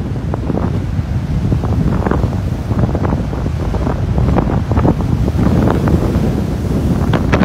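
Strong wind roars by the sea in crazy stormy weather at sunrise, a loud constant buffeting rush with wind hitting the microphone and waves surging underneath.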